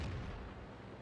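A tank cannon shot in the World of Tanks video game, a single heavy low boom with a rumbling tail that fades over a second, loud and with no talk.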